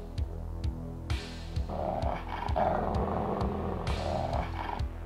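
Pack of dogs growling and snarling in the video game War of Death, with low rumbling growls and harsher bursts layered over a steady rhythmic game beat, fairly loud and continuous.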